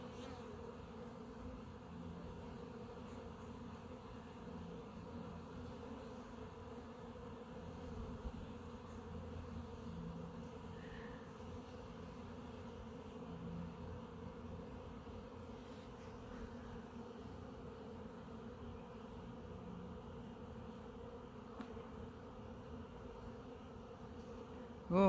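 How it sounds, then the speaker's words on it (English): A dense cloud of honeybees buzzes continuously around a large, busy hive, a steady close hum with no voices. "Lots of bees."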